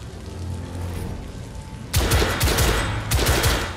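Gunfire in The Order: 1886: a dense burst of shots starting about halfway in, over a low rumbling game background, with a second loud cluster near the end.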